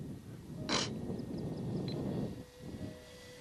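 Radio-controlled model airplane on a 15.6-volt electric setup, flown at a club field, buzzing steadily as it passes overhead at moderate distance with a brief sharper whoosh, no talking.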